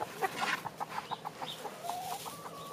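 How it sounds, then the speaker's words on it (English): Free-ranging chickens on a Scottish island cluck in a quick, irregular series of soft calls close by, fairly quiet and without voices over them. "these chickens don't know how lucky they have it"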